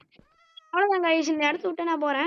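A Minecraft cat gives a faint meow, which is then largely covered by loud, close talking.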